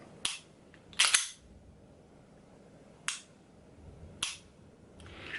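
A Sig Sauer P365 pistol fires several sharp, loud shots at uneven intervals, each crack standing alone with short gaps between them.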